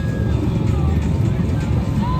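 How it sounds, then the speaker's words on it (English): Can-Am ATV engines rev at an Independence Day parade in Blue Island, a loud, continuous motor rumble with a few rising engine whines over crowd noise. "Oh, some of them are revving their engines. Some of them are revving. A lot of Can-Am ATVs."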